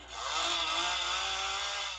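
A chainsaw roars at a Halloween haunted attraction on a residential street in Southern California, a loud, continuous buzzing whine held for about two seconds with no talking.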